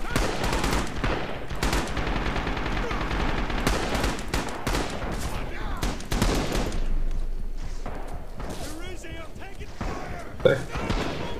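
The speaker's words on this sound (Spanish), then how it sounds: "Nos disparan y no sé de dónde" Gunfire in Red Orchestra 2, with rapid machine-gun bursts and single shots crackling throughout, loud and close at times, mixed with thuds and battlefield noise.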